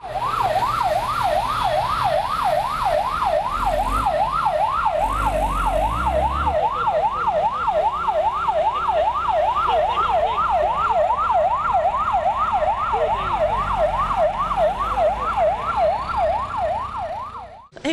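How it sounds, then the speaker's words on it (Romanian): An ambulance siren at a tram collision scene in Arad wails loudly, sweeping rapidly up and down in a steady, continuous yelp, close by, with traffic rumble underneath. "Ambulanțele au ajuns de urgență la fața locului"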